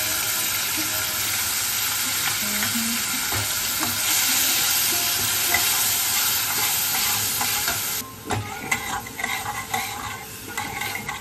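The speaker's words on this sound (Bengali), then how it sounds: "এদিকে পেঁয়াজটা যেই কিছুটা কষানো হয়ে যাবে তখন আমরা আদা রসুনের পেস্ট দেব।" Onion paste frying in oil tempered with whole garam masala for an egg curry, a strong continuous sizzle with stirring, then uneven spatula scrapes and clatters against the pan near the end.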